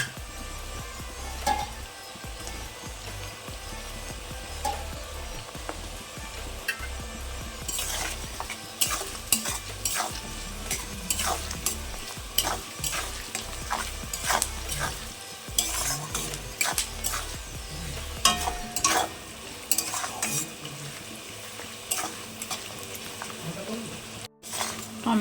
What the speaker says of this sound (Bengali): টমেটোগুলো আমার একটু ভাজা ভাজা হয়ে গেছে